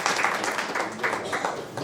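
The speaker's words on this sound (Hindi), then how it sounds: "एक बार तालियां बजा दीजिए ताकि आप सब इस्तक़बाल कर लें।" Audience applause filling the hall at a Sayeban Sada-e-dil 2019 poetry gathering, steady broad clapping throughout with a faint murmur beneath it.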